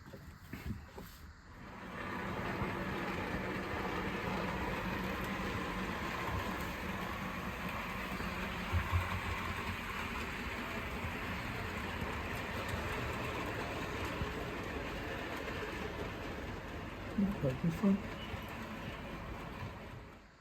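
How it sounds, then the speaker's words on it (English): A Heljan Railfreight class 58 model locomotive runs along a model railway layout with a steady, quiet motor whir and faint rolling rumble, lasting about twenty seconds with a few light clicks near the end. "this is the loco on the layout, and as you can see from some of the running shots, it runs really well"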